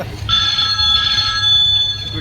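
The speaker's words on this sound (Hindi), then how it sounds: "सूरज बेटा, देखना तुम इसका फोन है।" A telephone rings in a home, an electronic tone trilling steadily for a couple of seconds, fairly loud and close over low room noise.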